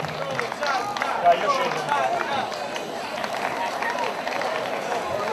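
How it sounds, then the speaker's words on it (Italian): Audience applause at the Valbrona trout festival, a sustained wash of crowd clapping and chatter from a lively outdoor gathering, steady throughout with voices audible in the mix. "Facciamo un applauso"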